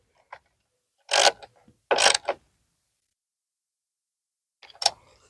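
Ratchet wrench tightening window trim bolts on a Ford Explorer, a few short bursts of clicking strokes with quiet gaps between them.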